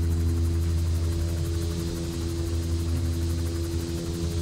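Steady droning engine and propeller hum of a VSL Tensor 600x aircraft in flight in X-Plane 11, loud and continuous with strong low tones and a buzzy upper layer, no talk.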